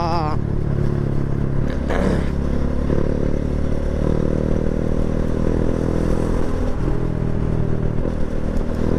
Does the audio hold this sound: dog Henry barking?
no